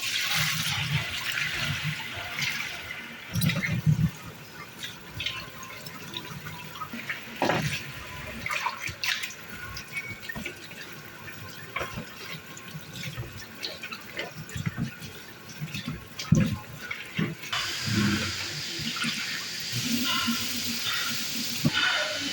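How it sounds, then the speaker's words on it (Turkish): Running water rinses vegetables in a home kitchen as a Turkish-style liver dish is prepared, a steady splashing flow with brief louder gushes and drips, heard alone without talk. "Şimdi arkadaşlar sebzelerimizi yıkayacağız"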